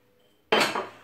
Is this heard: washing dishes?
yes